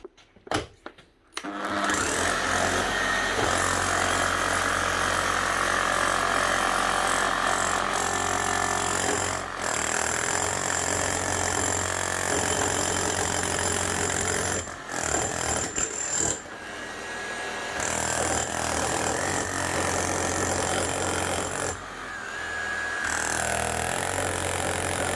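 A repaired Makita HR1111C rotary hammer runs loud and steady for over twenty seconds, with a few brief dips and a shift in tone partway through.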